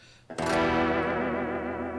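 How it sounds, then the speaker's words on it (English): Clean electric guitar with delay and reverb, its tremolo bar pushing a sustained struck chord into a gentle warble; one loud strum rings out and decays slowly, alone with no voices. "Crisp, clean with some delay and some reverb, and of course the tremolo bar."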